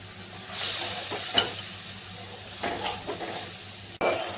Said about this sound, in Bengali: তো 2 মিনিট মতো আমি কষিয়ে নিয়েছি।